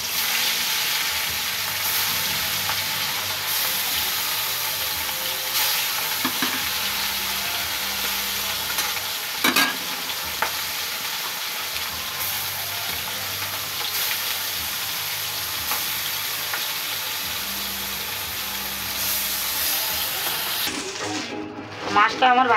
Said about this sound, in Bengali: তেল গরম হয়ে গেছে বন্ধুরা, মাছটা তুলে দিলাম তেলের মধ্যে।